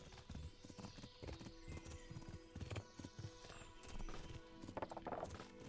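Horse hooves clip-clop along a road in the medieval video game Kingdom Come: Deliverance, a steady rhythmic trot at moderate level over game ambience and music, with an occasional whinny.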